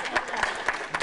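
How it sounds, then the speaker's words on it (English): A small audience at a 1995 Freedom Party of Ontario election dinner applauds in a brief burst of scattered, uneven clapping that sounds fairly close. "Actually, we need to applaud him."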